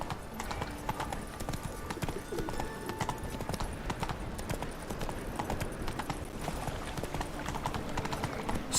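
Steady clip-clop of horse hooves from Geralt's horse Roach in the game Witcher 3, a continuous trotting rhythm heard close and fairly loud over a busy ambient background, with a faint neigh.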